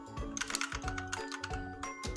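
Computer keyboard keys pressed on a desk setup, a rapid irregular run of crisp clicky taps close up, with brief pauses between small bursts.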